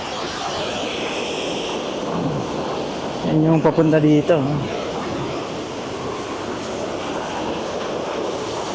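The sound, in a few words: Aliwagwag Falls waterfall rushing water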